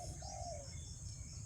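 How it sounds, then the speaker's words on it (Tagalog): Spotted doves coo in an outdoor field where silo traps are set for pest control, one soft descending coo rising over a low rumble, with faint higher chirps and insect-like hiss around it, and no talk. "daming humuhuni na tukmo."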